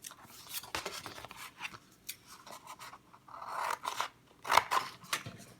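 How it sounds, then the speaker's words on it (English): Scissors snip through paper in a run of crisp cuts, irregular and close, with rustling paper between the snips. "For now, I will use this pair of scissors to remove the information with which I want to work on."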